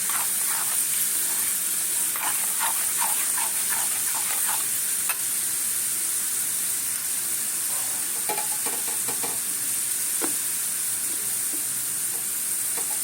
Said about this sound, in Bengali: বাকিটা ভাজছি আমি ওই একইভাবে একইভাবে ওইভাবে নাড়াতে হবে